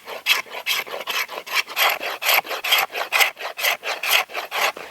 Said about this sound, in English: to be able to shave like this. Because this is where you'll get your really fine shavings